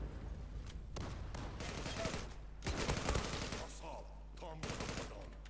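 Gunfire in the online shooter Zula, with rapid bursts and a dense fusillade of shots over game sounds. Faint voice chat is heard underneath.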